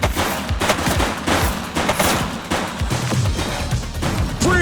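Gunfire in The Precinct police game: loud, rapid volleys of close shots in dense overlapping bursts, sustained with no pause and barely any voice.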